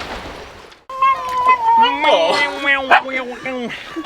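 A voice imitates a cat with a drawn-out, wavering meow, followed by a couple of shorter yowling cries up close.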